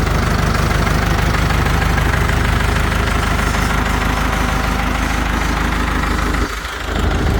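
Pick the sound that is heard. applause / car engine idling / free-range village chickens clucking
car engine idling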